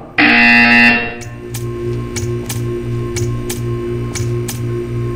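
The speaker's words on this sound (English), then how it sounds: "You will hear a buzzer." A loud, harsh electronic buzzer from the video game Portal 2 blares for about a second, then gives way to a steady low hum with regular ticking clicks.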